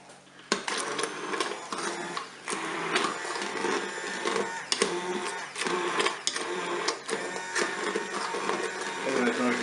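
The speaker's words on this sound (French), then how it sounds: "je vais mixer directement dans la cuve de mon cookéo" A blender purees an apple and orange compote directly in the cooking pot of a Cookeo multicooker, giving a close, whirring motor noise with uneven, pulsing bursts.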